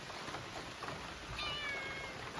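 A cat meows faintly at a rural home during heavy rain, a few short high calls rising over the steady hiss of rainfall.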